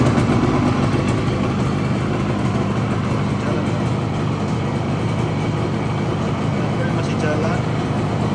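A 1973 Yamaha AS3 two-stroke motorcycle with original paint idles steadily after starting, a loud, close, continuous engine drone with no breaks.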